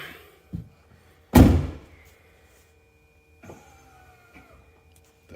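Amp Research power running boards on a Ford Excursion deploy as the doors open. A solid thunk comes first, then short, quiet electric motor whirs run with soft clicks in an otherwise still space.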